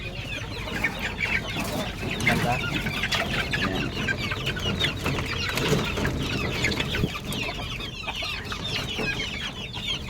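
Backyard chickens clucking steadily at close range while being fed leftover rice, with busy overlapping clucks and brief bursts of someone talking.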